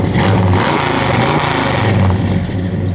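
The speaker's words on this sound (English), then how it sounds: "We rev it up a little bit, Jay." A loud, throaty 1969 Chevelle big block engine revving continuously nearby, a deep rumbling roar that swells and holds for several seconds.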